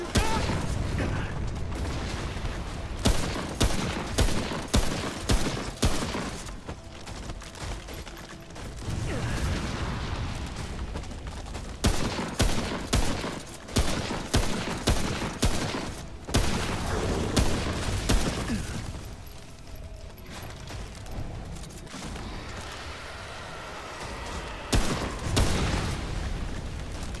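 Video game gunfire in an intense action sequence: repeated loud bursts and booms with mechanical clicks and ratcheting reloads, dense and near throughout, with brief quieter gaps and faint voices underneath.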